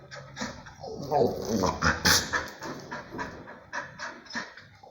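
A Boxer dog pants, whines and whimpers excitedly by a gate while waiting for its leash before a walk, a close, continuous stream of breathy pants and high whimpers.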